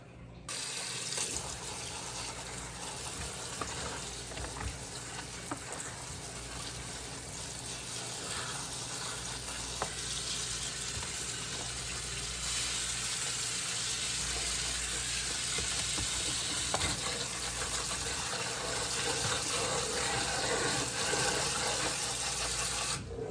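Watercress is rinsed under a running kitchen faucet, a steady, close hiss and splash of water into the sink lasting throughout, with slight shifts as the greens are moved under the stream.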